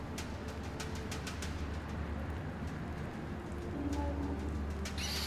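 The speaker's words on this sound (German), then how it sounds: "So, wir rufen trotzdem mal unsere Eule Brutus." Owl call summoned in the prehistoric video game Far Cry Primal, heard as soft repeated hooting over a steady ambient game background with faint rain-like texture, alone without talk.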